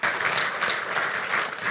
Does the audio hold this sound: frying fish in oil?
no